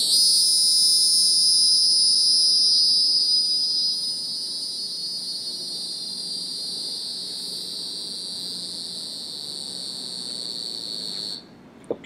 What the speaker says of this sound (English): cicadas vibrate their abdomen, shh, to make this sound, not their wings.